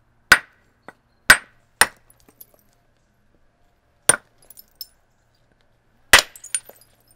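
Sharp, bright clicks of a stone striking flint as thin, far-reaching flakes are knocked off, about five distinct hits spaced irregularly, each followed by faint tinkles of falling chips, close and otherwise quiet.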